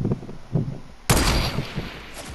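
Gunfire in the Fortnite video game: a sharp, loud shot bursts in midway, cutting through a low murmur of earlier game sounds and leaving a sustained noisy tail behind it.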